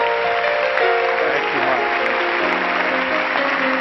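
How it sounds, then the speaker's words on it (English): A church congregation at an apostolic service claps their hands together in a steady, loud, continuous wash of applause, with sustained musical tones running underneath throughout. "Everybody clap your hands to the Lord, will you?"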